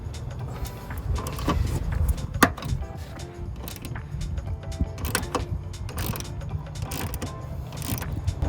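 Ratcheting wrench work on the bolts of a Tuffy under-rear-seat lockbox in a 2019-2022 Chevrolet Silverado or GMC Sierra 1500 cab: close, repeated metallic clicks and clanks in irregular bursts over a low background rumble, with no talking.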